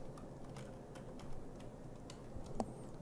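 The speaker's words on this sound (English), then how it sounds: "We're going to type in" Typing on a computer keyboard, faint scattered key taps at an irregular pace over a quiet room hum.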